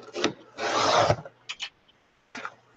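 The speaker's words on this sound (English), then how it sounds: "And then I'm going to put this little clamp on it" A metal binding clip pushed onto the edge of a handmade zine journal, giving a short scraping rasp with a few quick clicks and rubs, close and alone.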